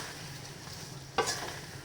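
Mustard paste being stirred into mango pickle frying in a pan, a soft continuous sizzle broken by one brief scraping stir near the end, close and fairly quiet.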